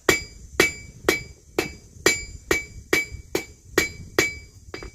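Hammer blows on hot metal while forging hooks, about ten sharp ringing strikes at a steady rhythm with a bright metallic clang after each, close and loud with no talk.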